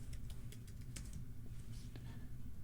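Light keyboard clicks tapping in short irregular bursts, quiet and close over a steady low room hum, with no voices.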